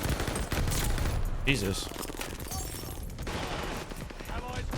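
Rapid bursts from a Marco-5 submachine gun in Call of Duty: Vanguard multiplayer, dense continuous gunfire with a sharp metallic clink midway, someone talking over the shooting.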